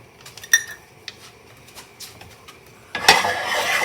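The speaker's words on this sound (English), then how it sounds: "So you wanna give this a stir and keep stirring until the cheese has melted." Metal spoon stirring milk and Mexican cheese blend in a pot, with several light clinks and scrapes, then a louder sustained scraping swirl near the end, close and without talk.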